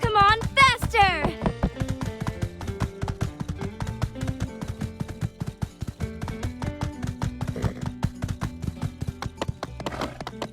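A horse galloping in the video game My Time at Sandrock: rapid, rhythmic clip-clop hoofbeats running steadily beneath game music, with a short vocal flourish near the start.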